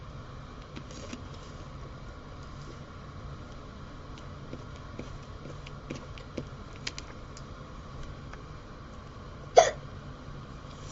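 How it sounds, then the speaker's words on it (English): A single short hiccup pops out near the end over a quiet background of light keyboard typing and faint clicks. "Whoops, that was a hiccup."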